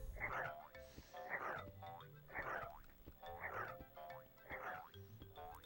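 Frogs croak in the video game Rumbly Tumbly Adventure, with five evenly spaced, rhythmic croaking bursts over a steady ambient backdrop, close and moderately loud.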